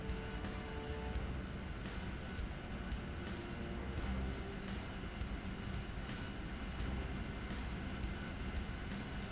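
An F-14 Tomcat jet engine idles in a DCS World flight simulation, a constant broad roar with a steady whine, unchanging throughout and with no voices.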